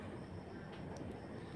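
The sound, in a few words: Kolkata underwater metro station ambience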